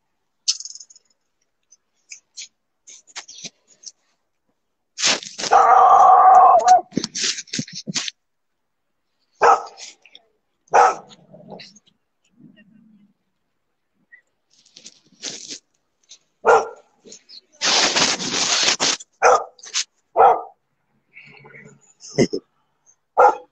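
Dogs bark in scattered bursts, some loud and close, with quiet gaps between them and no clear talking.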